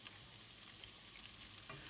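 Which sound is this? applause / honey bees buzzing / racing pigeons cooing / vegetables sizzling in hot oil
vegetables sizzling in hot oil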